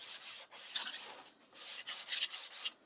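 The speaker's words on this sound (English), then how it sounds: "now we can use that just to give it a quick sand. Obviously going in the direction of the grain." Hand sanding a wooden straight edge along the grain, with close, dry rasping strokes in an uneven back-and-forth rhythm, some passes louder and longer than others, alone without talk.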